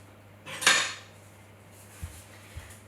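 A metal spoon is fetched in a kitchen: one loud clatter of utensils against dishes, then two short soft taps, with quiet room tone between them.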